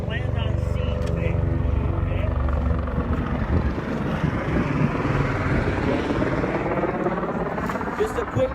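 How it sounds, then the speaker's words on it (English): A Life Flight medical helicopter comes in to land on scene at a county fair event, its loud rotor thrum and engine whine steady throughout, with people talking underneath. "Once that helicopter starts to land"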